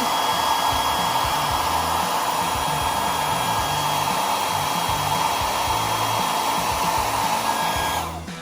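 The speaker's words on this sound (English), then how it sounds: "aim the blow dryer at his foot. It's going to get noisy" A blow dryer aimed at the foot of a small 1:18-scale plastic action figure gives a steady, loud, close whooshing roar. It runs unbroken for about eight seconds before starting to cut off.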